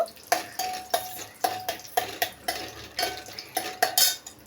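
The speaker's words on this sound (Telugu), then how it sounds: "ఇప్పుడు సో కొంచెం దూరంగా మిక్స్ చేయాలి." Gongura chutney with curry leaves being mixed in a pan, a metal spoon scraping and clinking against the pan in a quick, steady rhythm of a dozen or so close, bright strokes over a faint sizzle.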